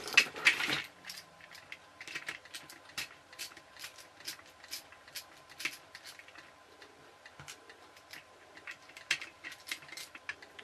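Small metal clicks, taps and light scrapes of tools working on a toy locomotive as its casing is levered apart and the flywheel removed, with irregular close, quiet ticking throughout and a louder rustle at the start.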